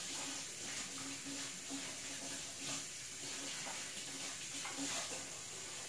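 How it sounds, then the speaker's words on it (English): Water runs steadily from a tap with a soft, continuous hiss and splash as hands rub and rinse beneath it in a kitchen before candy making. "Let me wash my hands first."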